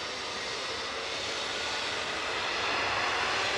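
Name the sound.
Boeing 787 Dreamliner jet taxiing at Manchester Airport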